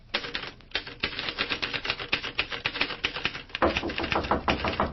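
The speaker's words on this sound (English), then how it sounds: "Tom is working away at his typewriter when the knock comes on the door" Old-time radio drama effect of a manual typewriter, a man working at it in his room: quick bursts of sharp key clacks with short pauses, fairly close and dry, heard alone with no talk.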